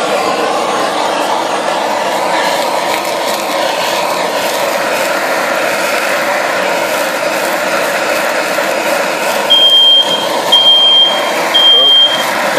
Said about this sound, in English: that's our smoke detector